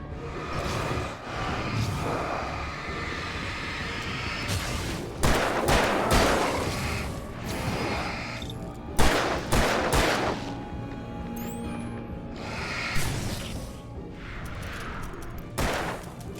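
Gunfire rings out in the video game Alan Wake Remastered, in several sharp, loud bursts and volleys spread across a steady, dense backdrop of game noise.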